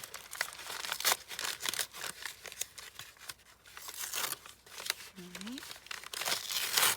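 A paper bag tears slowly along its glued seam, giving a run of close, dry crinkling and ripping bursts that continue under a brief spoken word.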